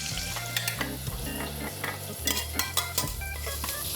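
Wild turkey pieces frying in a pan, a steady crackling sizzle under quick rhythmic scrapes and clinks of a utensil against the pan, close and fairly loud.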